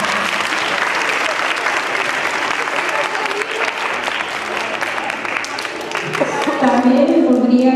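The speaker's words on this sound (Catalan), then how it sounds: "Un aplaudiment." Audience applause at a children's school theatre showcase, a dense sustained wash of clapping filling the whole stretch and swelling louder near the end.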